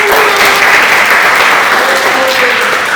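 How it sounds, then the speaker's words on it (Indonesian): A classroom of students claps together, loud, dense hand clapping close by that runs steadily through the whole moment. "Oke, kita tepuk tangan dulu"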